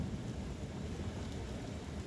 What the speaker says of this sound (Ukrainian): стоїмо, чекаємо, поки пройде злива